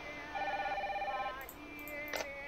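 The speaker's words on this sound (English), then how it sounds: "there's phones ringing" Phones ringing in the video game Alice is Dead, a steady electronic ring tone pulsing for about a second, then a second, different ring, all fairly quiet.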